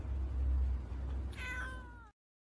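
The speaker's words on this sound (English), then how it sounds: "the final meow just to break your heart" A cat named Fiona gives a single drawn-out meow with rising and falling harmonics that cuts off abruptly, preceded by a low rumbling background.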